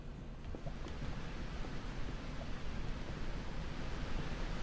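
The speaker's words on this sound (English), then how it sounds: "No, all I hear is a waterfall." Constant broadband rushing of a waterfall in Minecraft, a steady, loud wash of falling water filling the scene without breaks and with no talk over it.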